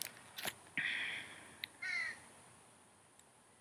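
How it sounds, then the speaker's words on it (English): Crows caw outdoors in two harsh, drawn-out calls, moderately close, with a few sharp knocks and quiet background between them. "The birds are out."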